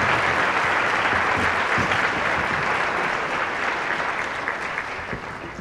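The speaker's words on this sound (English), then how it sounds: "Give him a round of applause." A live audience at a skeptics' conference challenge event applauds steadily, a thick roar of clapping that holds for several seconds before slowly tapering off.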